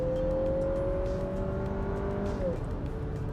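A 2022 Lexus NX350 F Sport SUV accelerates hard out of a turn. Steady engine drone is heard from inside the cabin, with a rising tone that shifts near the end, and a voice talks faintly underneath.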